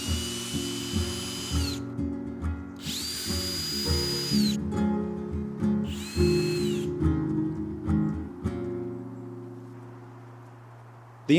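A power drill drives screws into a fence in several short whining bursts with stops between them, followed by lower ratcheting and tool hum near the end.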